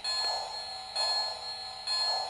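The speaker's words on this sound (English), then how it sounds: "Let's try the bell." A Lionel Army Hospital toy train set's electronic bell sound effect rings in three loud, evenly spaced metallic strokes, each ringing on with a steady tone between them, with no voices.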